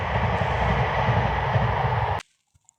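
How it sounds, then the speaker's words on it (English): A train rumbles past in a loud, steady broadband roar for about two seconds, then cuts off abruptly into near silence with a couple of faint knocks. "Here comes another train."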